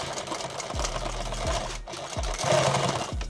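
A sewing machine stitches through bulky fabric for a subgun micro rig, running in a loud, close, rapid rumble that pauses briefly midway and then resumes with a few low thumps.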